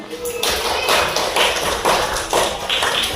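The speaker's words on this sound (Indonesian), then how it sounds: "Oke, tepuk tangan." Fourth-grade pupils in an Indonesian Pancasila lesson clap their hands together in a loud, close, continuous patter that swells in rhythmic waves for a few seconds.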